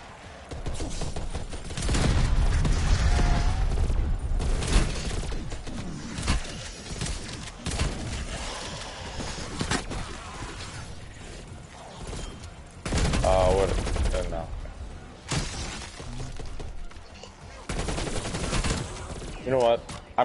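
Gunfire in a video game comes in loud, dense bursts of repeated shots up close. Game noise and a talking voice fill the gaps between the volleys.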